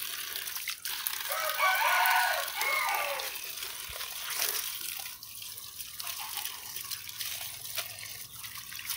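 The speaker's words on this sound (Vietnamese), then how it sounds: "Mỗi loại rau mình rửa 3-4 nước vậy đó" Vegetables are washed in water with splashing and sloshing, and a rooster crows in the background early on.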